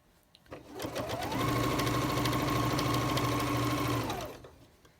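A sewing machine stitches a quilt-as-you-go strip down, ramping up to a steady, fast mechanical hum close by, then slowing to a stop.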